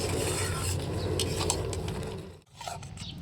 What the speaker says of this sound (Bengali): এবার আমি একটু নেড়ে চেড়ে নিই।